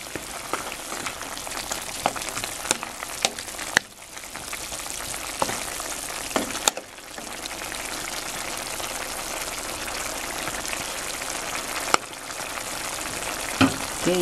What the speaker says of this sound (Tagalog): hihintayin natin ilang sandaling pagkulo pa para tuluyang maluto itong ating ginisang sayote